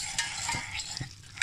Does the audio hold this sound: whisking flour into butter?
yes